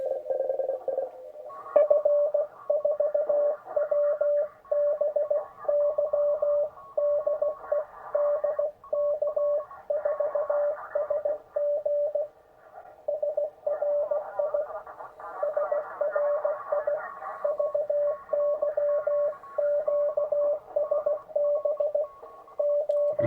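Morse code CW signals on the 30 meter amateur band: a steady tone keyed in rapid dots and dashes under noisy static, with faint, overlapping signals in the background.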